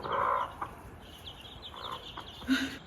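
Chickens cluck and squawk nearby in pens inside a smallholding barn, in short, scattered bursts, with a few louder calls standing out against a quiet indoor background.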